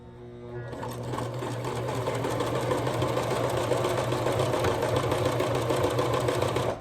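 A cheap Singer sewing machine stitches through ripped denim jeans, its motor running in a loud, steady, continuous mechanical whir with a fast rhythmic needle clatter, close up and without any talk.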